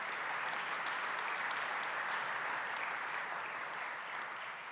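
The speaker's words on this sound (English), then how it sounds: "So a round of applause for our volunteers too, please." Steady, dense applause from an evening audience thanking volunteers at a public talk, with the crowd clapping evenly and loudly the whole time, then tapering slightly at the close.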